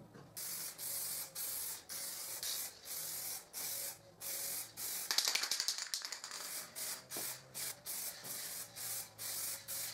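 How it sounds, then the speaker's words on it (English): Spray gun laying a second coat of varnish on lightly sanded wooden display cabinet parts, heard as a regular series of short hissing bursts, with a louder, denser stretch midway. "I slightly sand and I spray a second coat."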